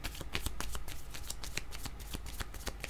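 Tarot cards shuffled rapidly and continuously at close range during a card reading, a steady riffling patter with crisp flicks throughout.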